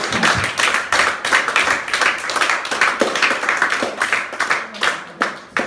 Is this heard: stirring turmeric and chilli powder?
no